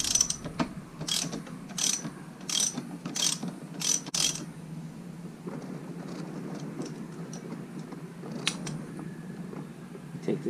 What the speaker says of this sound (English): Take this nut off.